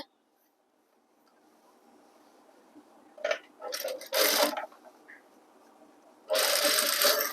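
A sewing machine stitching school uniform pants, running in two short bursts separated by a pause, with rubbing and handling of fabric; close and fairly loud.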